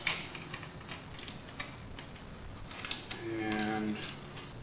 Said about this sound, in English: So we'll just kind of break all the bolts loose